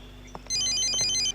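A mobile phone rings in a classroom, a brief, bright electronic ringtone melody repeating for under a second against a quiet room hum.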